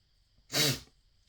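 A single sharp sneeze bursts out of near silence, loud and close, lasting about a third of a second before fading away.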